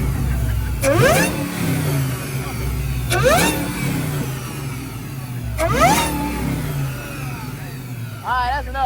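A supercharged, cammed 6.1 engine car revs hard at a lively car meet, with three loud rising throttle blips spaced a few seconds apart over crowd noise and chatter.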